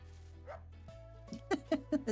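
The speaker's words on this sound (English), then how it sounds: "The doggies bark." Several quick, bright dog barks from the video game Dinkum, arriving in a rapid run of three or four yaps near the end over soft game music and ambience.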